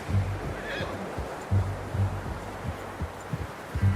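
A horse in Red Dead Redemption 2 gives a soft, fairly faint neigh amid steady outdoor ambience, with a low rhythmic thud of hooves and movement running throughout.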